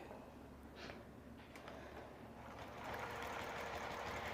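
A longarm quilting machine tacks down a large quilt with a steady mechanical whirr that grows louder partway through. The hum is continuous and close, with no talking.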